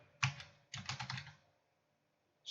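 Bursts of quick clicking keystrokes on a computer keyboard entering a network configuration command, close and crisp, with a short pause and a final burst of keys.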